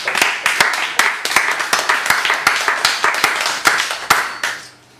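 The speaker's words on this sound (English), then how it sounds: "More applause, please." Audience at an evening music show claps after a live set, with distinct loud individual handclaps in an uneven rhythm over a softer spread of clapping, fading out at the end.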